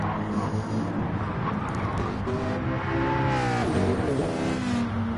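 Race cars roar around a track in a PS4 racing game, a dense layer of engine whine with rising and falling revs as cars pass close, steady and loud throughout.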